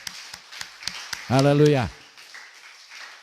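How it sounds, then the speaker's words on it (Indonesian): A church congregation at a Pentecostal Sunday service in Bali claps hands in a few crisp, spaced beats, then a voice calls out and faint clapping trails off quietly. "Tepuk tangan dulu, puji Tuhan."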